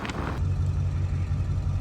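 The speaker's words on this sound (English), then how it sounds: "It's got a nice little rumble to it." A 2002 Ford Excursion's 7.3L Powerstroke diesel engine idles with a low, steady rumble, heavy in the bass, with a faint click near the start.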